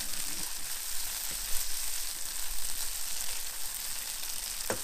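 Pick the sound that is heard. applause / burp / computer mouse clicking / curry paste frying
curry paste frying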